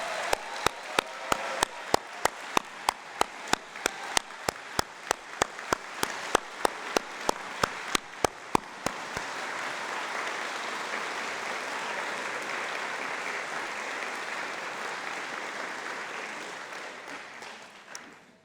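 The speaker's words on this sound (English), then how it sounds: "let's give them a big round of applause" A commencement audience for an executive MBA graduating class applauds, opening with loud, evenly spaced individual claps before swelling into a broad, sustained round of applause that fades near the end.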